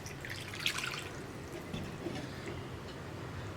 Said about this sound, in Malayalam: നമ്മുടെ മാങ്ങയും കൂടി കുക്കാവാൻ ആവശ്യമായിട്ടുള്ള വെള്ളം ഒഴിച്ചു കൊടുക്കുക